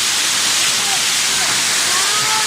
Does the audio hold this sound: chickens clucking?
no